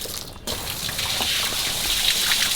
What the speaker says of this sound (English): All this water, it comes and falls over this